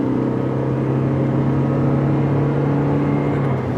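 A car engine held at full throttle, a steady loud droning hum with strong low tones that stays constant and close for the whole stretch, with no voices over it.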